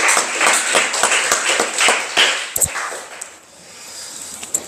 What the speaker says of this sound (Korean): 다시 한번 하나님께 영광의 박수 올려드리겠습니다.